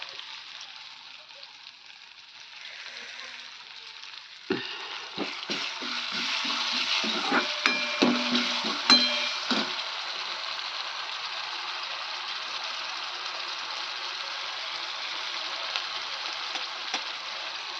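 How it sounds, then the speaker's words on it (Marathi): Green chili paste, a crushed thecha, sizzles as it hits a hot pan, with a burst of crackling and scraping followed by a steady hiss of frying that continues to the end. "त्याच्यात टाकूया हिरवी मिरची पेस्ट केलेली, ठेचा केलेला मी त्याचा, ते टाकते त्यात."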